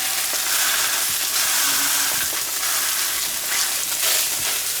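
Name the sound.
salmon skin searing in a hot skillet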